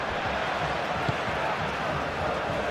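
Broad crowd roar from a full stadium in the PES 21 football game, a steady dense wash of noise with no distinct chants, and speech faintly mixed in.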